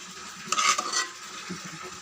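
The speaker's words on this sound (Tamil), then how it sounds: "நம்ம மத்து போட வேண்டாம், கரண்டி வச்சு நல்லா கலந்து விட்டுடலாம்" A ladle stirs cooked toor dal for sambar in a pot, with two short scraping, squelching passes close by, the first louder, over a quiet background.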